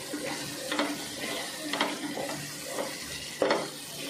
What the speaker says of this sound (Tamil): இப்போ நம்ம நல்லா மிக்ஸ் பண்ணிக்கலாம்.